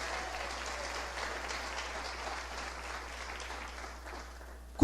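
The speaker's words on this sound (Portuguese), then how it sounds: "Aplaudo mais uma vez, aleluias." A church congregation at a Pentecostal communion service applauds in a dense, sustained wash of clapping, moderately loud and roomy, easing slightly before a sharp knock at the very end.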